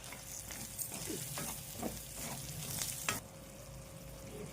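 Chopped onion and curry leaves sizzle and crackle in hot oil in a pan for prawns fry, with a steady frying hiss and occasional stirring scrapes close by.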